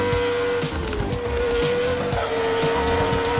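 A race car in the Northampton Grand Prix racing game brakes and corners, its engine holding a steady high whine that dips briefly as the tires scrub and squeal, loud and continuous throughout.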